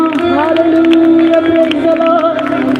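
A Christian gospel meeting congregation claps and cheers together, a loud crowd roar with sharp clapping over sustained sung or musical tones.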